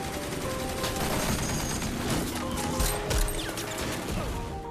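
Rapid bursts of gunfire in a film shootout with coast guard forces crackle through a busy, dense mix, with a heavier crash near the middle; the action stays loud throughout.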